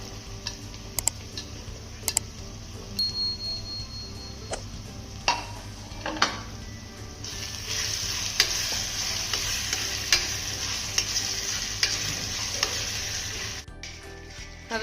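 Capsicum stir-fried in a hot pan for fried rice: a steady close sizzle that swells midway, punctuated by sharp ticking taps and scrapes of the spatula against the pan, with no talking.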